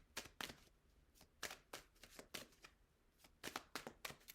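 Soft riffling and slapping of a tarot deck being shuffled by hand in a quiet room, a few uneven bursts of card flutter, faint and close, no voice.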